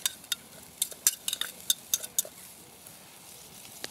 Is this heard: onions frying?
yes